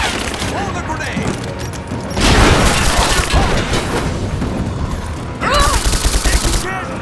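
Gunfire and booming bursts in a Rise of the Tomb Raider firefight, dense rattling shots with two loud surges that fit a grenade blast, and shouting voices in the mix.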